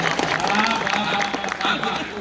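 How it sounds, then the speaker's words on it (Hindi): An audience at a Hindi comedy poetry gathering claps in a lively burst of many hands, with a voice talking over the applause as it rises and fades across the moment. "एक बार ताली बजाओ, ये पोछे का असर दिखाई दे जाओ।"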